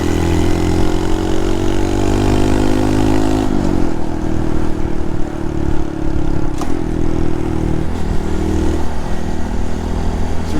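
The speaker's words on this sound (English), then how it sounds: "It's a really good reason to have a loud exhaust. But it's not that loud, it's a good tone." A Honda motorcycle with an aftermarket exhaust runs loud and close on a ride near Appledore, a steady deep engine drone with shifts in pitch as the revs change, no talking.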